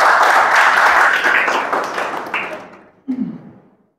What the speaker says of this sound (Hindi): जोरदार तालियां हो जाए एक बार सर के लिए